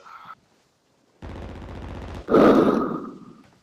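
Video game gunfire in a shooter match: a long sustained burst of automatic fire runs for about a second, then a louder, closer blast of shots follows and trails off, with a brief tone beforehand.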